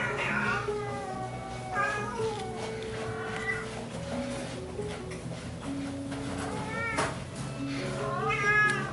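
A Siamese cat at a rescue meows repeatedly in drawn-out, wavering calls, moderately close, while faint background noise and a soft hum run underneath.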